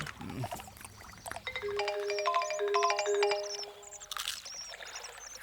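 A phone rings with an incoming call, playing a bright, chiming electronic melody of repeated tones over a few seconds, preceded and followed by brief background sounds.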